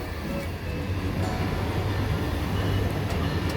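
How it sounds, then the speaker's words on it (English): A Brightline passenger train between Fort Lauderdale and Miami, heard from onboard as a steady loud low rumble with rhythmic wheel noise and faint squeals. "this is going to be our first experience on Brightline train from Fort Lauderdale to Miami"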